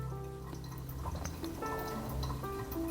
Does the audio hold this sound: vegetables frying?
no